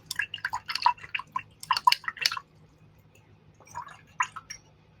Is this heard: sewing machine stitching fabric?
no